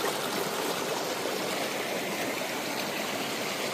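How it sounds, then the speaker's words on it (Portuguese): Small waterfall in a rural stream, a steady broadband rush of falling water, close and continuous without pause; no voices. "Aqui tem uma quedinha d'água."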